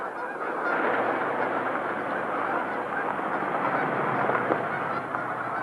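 A steady, dense din of honking rises from roughly a hundred geese trapped under a net at Horicon, many birds calling at once at constant volume with no voices.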